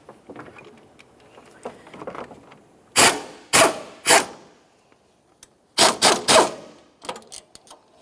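A ratchet spins loose a 14mm starter mounting bolt on a 2009-2010 Pontiac Vibe, giving two bursts of rapid, loud, close clicking, one around three seconds and one near six, with quieter mechanical rattles in between.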